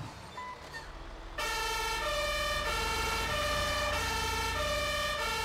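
A wailing ambulance siren, loud and close, with a repeating rising-and-falling tone over a low road rumble after a quieter opening, heard while following the ambulance.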